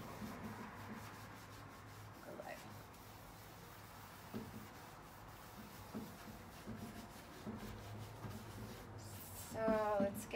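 Clear wax is rubbed by hand onto painted furniture with repeated back-and-forth strokes, a quiet, rhythmic scrubbing that runs throughout and swells briefly near the end.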